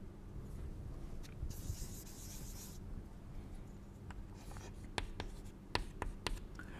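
Pen or marker writing out matrix equations for a tri-diagonal system, a steady soft scratching with a few sharper taps and strokes near the end, close and fairly quiet.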